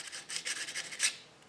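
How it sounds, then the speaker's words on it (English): Rolled-up sandpaper rasping inside the bore of a front control arm on a 2009-2016 Audi B8, a series of short, close scratchy strokes in an uneven rhythm, one sharper pass near the end, with no talking. "now I just rolled up some sanding paper"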